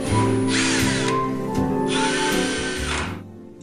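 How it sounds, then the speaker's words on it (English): A power drill with a Phillips No. 2 bit drives screws into a flip-top table mechanism, whirring loudly and close, its pitch shifting as it speeds up and bogs down across two to three short runs. "Using a Phillips No. 2 drill bit, drill the 6 screws securely into place."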